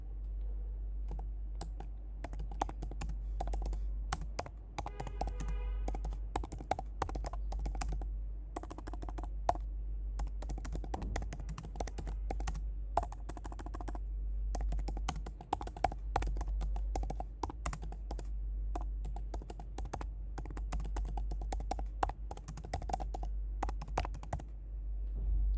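Quiet computer keyboard typing while a survey question is entered in a training management program, rapid irregular key clicks in bursts, close and soft, with no talking.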